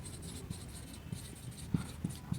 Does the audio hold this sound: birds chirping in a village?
no